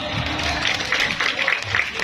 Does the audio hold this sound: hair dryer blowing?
no